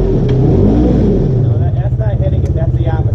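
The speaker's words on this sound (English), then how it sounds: "Give it some gas." Off-road vehicle engine revving loudly and close on a rocky trail at Windrock, with a heavy, throbbing low rumble that pulses faster toward the end as people talk nearby.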